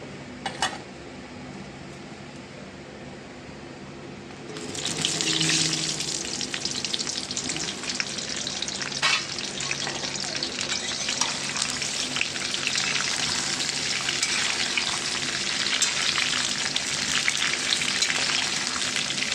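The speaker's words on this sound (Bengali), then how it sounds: "আমটাকে একটু তেলের মধ্যে ভাজা ভাজা করে নিতে হবে" After a few quiet seconds, raw green mango pieces for pickle hit hot oil and a loud, steady sizzle starts, crackling and spitting without a break.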